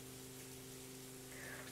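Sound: rain in a video game (police roleplay)

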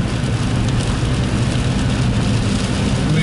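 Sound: rain heard from inside a car at night

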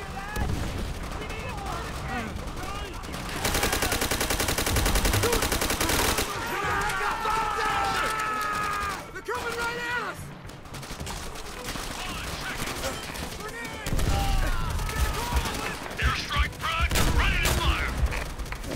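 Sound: gunfire in video game Call of Duty: World at War

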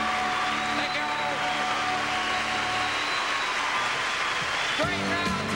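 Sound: audience applause

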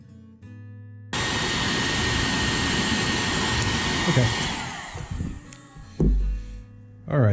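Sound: hair dryer blowing

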